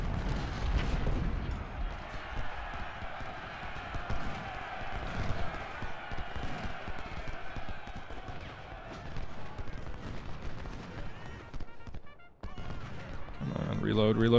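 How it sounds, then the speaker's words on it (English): Battlefield din from Ultimate General: Civil War infantry combat: a dense, continuous roar of massed musket volley fire and rumbling artillery, loud and unbroken for most of the span, briefly dipping before resuming. "Fire a frickin' volley."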